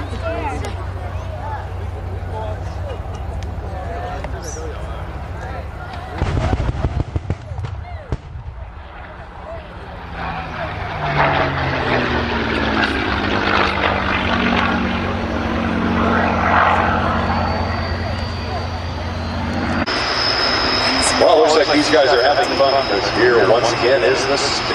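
A Spitfire warbird flying past at an airshow, its propeller engine droning and swelling loud as it nears, with crowd noise and a public address voice underneath.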